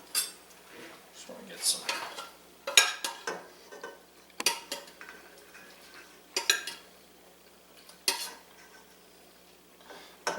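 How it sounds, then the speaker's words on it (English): A metal pot and utensils clatter and scrape irregularly while pasta sauce is mixed in a home kitchen, close sharp knocks and clinks in uneven bursts, with brief speech among them. "I'm going to go ahead and take my pot."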